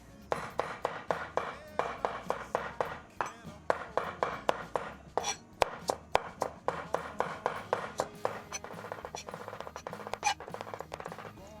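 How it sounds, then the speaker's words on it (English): A knife chops ginger on a board for Hainanese chicken rice in rapid, steady knocks, dozens of close crisp strikes at a brisk even rhythm, with no talk. "And then just give it a chop."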